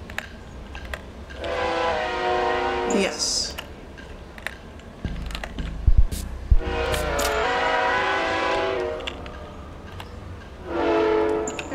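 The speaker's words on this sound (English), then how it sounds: "There's a train." A train rolls past with its horn blaring in Thief Simulator, two long sustained horn blasts separated by rumbling rail noise and a final shorter blast, with a person briefly speaking over it.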